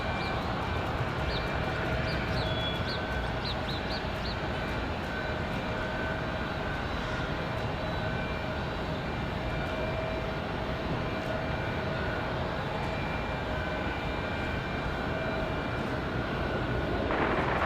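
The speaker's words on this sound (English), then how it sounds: "It's going to be that Republic Airways 4761 from LaGuardia, the E175, coming in right on the heels of Breeze Airways." A Republic Airways Embraer E175 jet lands at Raleigh-Durham airport on a windy day. Its engines give a steady, distant roar and whine that holds at an even level throughout, with no voices.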